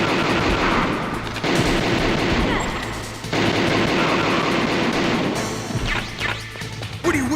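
Gunfire in the PC version of Metal Gear Solid Integral: loud, dense bursts of rapid shots and crashing impacts that surge, break off briefly and resume, ending in scattered sharper hits.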